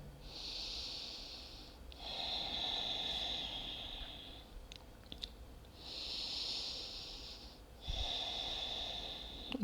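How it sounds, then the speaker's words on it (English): Slow, deep breaths during a hip stretch in a yoga session: two long inhale-exhale cycles, each airy and hissing, close and fairly soft, with a brief pause between them. "We stay for 3 more breaths in here."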